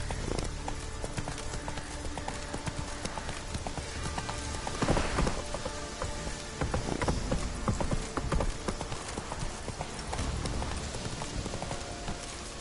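Horse hooves clip-clop steadily in The Witcher 3, a continuous rhythmic trot under rain-like ambience and occasional game sounds, with spoken commands to the horse in places.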